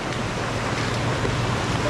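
Floodwater of a river rising during heavy rain rushes in a steady, dense roar, close and loud, with no break.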